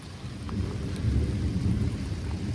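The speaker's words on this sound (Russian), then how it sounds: "а сейчас уже ливень, просто ливень" Heavy downpour in a forest setting with thunder, a dense steady roar of rain and a low rumbling that swells through the middle, loud and continuous with no voices.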